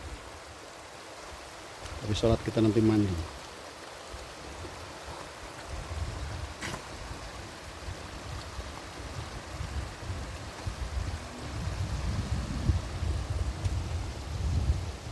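A clear-water river flowing along farmland near Cinangka, Jalan Cagak in Subang gives off a steady, soft wash of rushing water, with people talking nearby over it.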